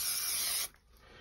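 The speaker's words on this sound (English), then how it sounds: "and simply give these a little spray" 3M Craft Mount spray glue hisses from an aerosol can in one close, steady burst that cuts off abruptly, leaving near silence.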